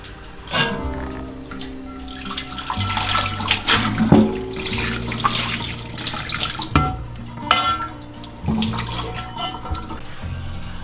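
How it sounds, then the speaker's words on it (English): Boiling water is poured over a rusty cast iron pan in a sink, rinsing off the rust: several uneven bursts of splashing and running water over about eleven seconds, close and moderately loud, with no talking. "go ahead and put some boiling water over the whole thing and rinse all the rust off of"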